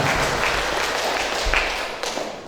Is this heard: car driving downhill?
no